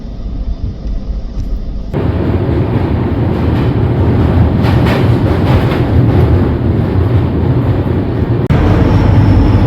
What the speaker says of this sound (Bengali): আমাদের ট্রেন তার নির্ধারিত সময় থেকে এক ঘন্টা লেটে ঢুকিয়েছে